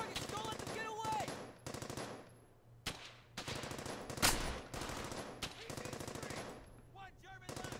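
Gunfire in the Brothers in Arms: Hell's Highway video game, with rapid automatic bursts and single shots cracking through much of the clip amid battle noise and a sharp loud blast midway.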